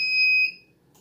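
A DVR with no hard drive installed gives a single sharp electronic beep, ringing out loudly for about half a second, then cutting off into a faint hum.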